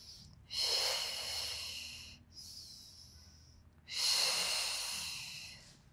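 A person breathes in during a Pilates exercise: two long, audible nasal inhalations with a short, fainter breath between, close and clear in a quiet room.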